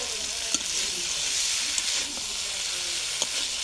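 Fried cauliflower and potatoes sizzle in a pan as they are stir-fried for a Bengali katla fish curry, a steady frying hiss with a few sharp scraping clinks of the spatula.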